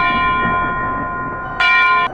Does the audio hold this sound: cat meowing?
no